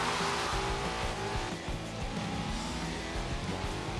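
A car engine drives through a night scene in the racing game Forza Horizon 3, revving loudly and continuously with shifting gear tones and faint tire noise, with no talking.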